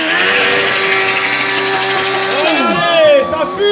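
A motorcycle revs hard while standing still for a burnout at an outdoor motorcycle festival, a loud sustained high-pitched scream that drops off and rises again, with people talking nearby.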